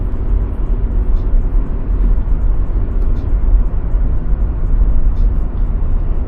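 Inside a moving car, a steady low road rumble and engine drone hum continuously, fairly loud and even throughout, with no voices.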